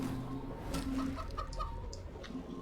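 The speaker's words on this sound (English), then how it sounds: "Right, you're going to be a chicken." Chicken clucks from a character polymorphed into a chicken in Divinity: Original Sin 2, a few short clucking calls over steady game ambience and music.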